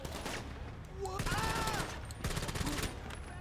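Rapid bursts of gunfire in GTA 5, two dense volleys of automatic shots about a second long each, loud and close, with brief tonal game effects sweeping between them.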